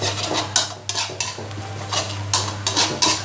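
A utensil stirs a basil stir-fry sauce simmering in a pan, producing repeated scraping strokes in an uneven rhythm over a low steady hum and soft bubbling.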